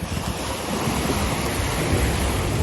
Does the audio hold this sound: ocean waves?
yes